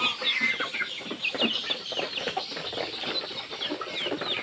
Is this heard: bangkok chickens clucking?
yes